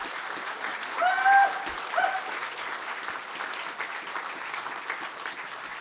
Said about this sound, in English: let's give All Nations Indian Youth one more round of applause